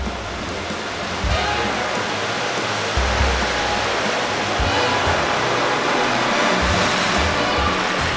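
Strong waves pound a rocky shore where a female coconut crab struggles while spawning, a dense, loud, sustained roar of surf with repeated heavier crashes rising over it, close by, no speech.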